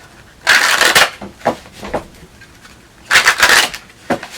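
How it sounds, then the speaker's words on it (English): Tarot cards being shuffled in two quick bursts of riffling and slapping, with a few softer taps between them, close and clear. "Couple more shuffles here"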